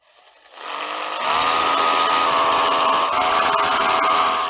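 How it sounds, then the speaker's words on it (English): Power drill boring holes into concrete to fit concrete screws, starting with a short spin-up and then grinding steadily and loudly with a sustained high whine. "So simply drill 3 holes, and then we're going to put the concrete screws in."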